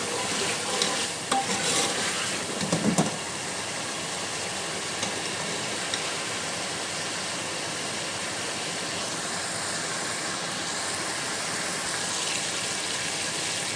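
Bottle gourd gravy sizzles and fries in a pan while being stirred, with a few scraping strokes early on and then a steady, close, moderately loud crackle that carries on alone.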